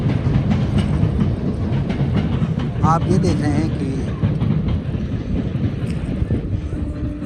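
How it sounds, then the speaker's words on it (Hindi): A train crossing the railway bridge over the Ganges at Kanpur rumbles steadily and continuously, heard from a boat on the river with wind buffeting the microphone while people talk over it. "रेलवे पुल से गंगा के ऊपर ट्रेन गुजर चुकी है।"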